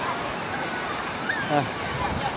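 The constant rushing roar of Tham Phra waterfall fills the scene evenly, with people talking faintly in the background over the flowing water.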